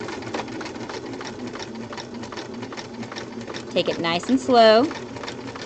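Sewing machine running a back stitch along a lap seam on a pocket, a steady close mechanical whir that continues under a person speaking quietly, with a brief louder burst of voice near the end.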